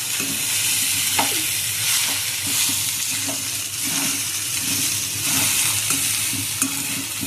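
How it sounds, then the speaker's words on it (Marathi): Rice is stirred in a hot pan, with a constant sizzle and regular scraping strokes of a spoon against the metal, close up. "हे बघा चांगलं असं मिक्स करून घ्या भाताला"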